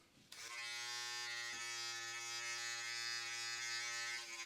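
Philips Norelco electric beard trimmer running at close range, a steady high buzzing hum that starts abruptly and holds constant for several seconds, with no voices.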